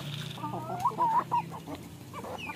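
Rhode Island Red chickens cluck softly at close range, a few short rising calls over quiet farmyard background.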